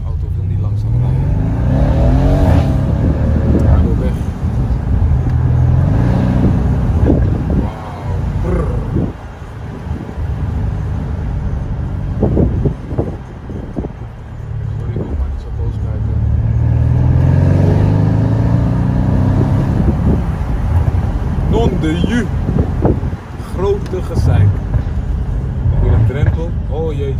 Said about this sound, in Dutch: Kunnen jullie meegenieten van AMG geluid.